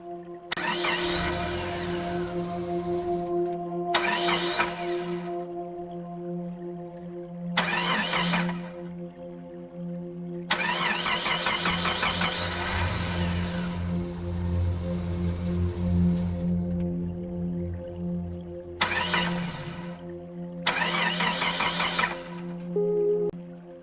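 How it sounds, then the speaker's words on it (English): A car engine cranks repeatedly without catching, its starter whirring in six separate bursts of a few seconds each with short pauses between, close and clear with no talk. "And he goes to turn the car on, but it would not"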